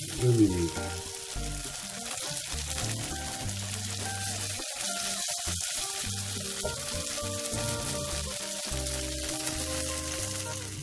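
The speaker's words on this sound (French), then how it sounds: "Et on va étaler nos petits légumes comme ça. Qu'on va laisser revenir à nouveau quelques 2 minutes." Small vegetables sautéing in olive oil in a paella pan for a seafood paella, a steady close sizzle and crackle running throughout with faint stirring and tonal background sounds.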